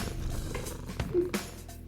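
A pet cat purring close up, a low rhythmic rumble with a couple of soft handling noises.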